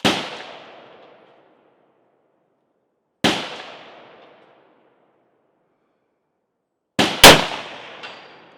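A P14 Enfield rifle fires three loud, sharp shots outdoors, each cracking and trailing off in a long echoing decay; the first two are spaced about three seconds apart, and the third follows with a quick clatter of action noise.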